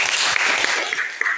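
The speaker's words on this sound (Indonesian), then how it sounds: "Berikan tepuk tangan untuk Sylvia." Students in a classroom clap for a classmate named Sylvia, a short close burst of scattered hand claps lasting just over a second.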